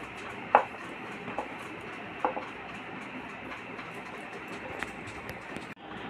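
Naan dough rolled out with a rolling pin for deep-fried naan paratha: a steady close scraping rumble with a few sharp taps, no talking.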